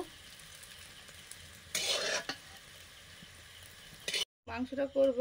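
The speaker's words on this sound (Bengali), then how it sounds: "এবারে তেলে চিনি দিলাম, শুকনো লঙ্কা, তেজপাতা, গোটা জিরে" Sugar, dried red chillies, bay leaf and whole cumin hit hot oil for a sudden sizzling burst of about half a second, after quiet stirring in a pan; a short silence follows, then a person speaks.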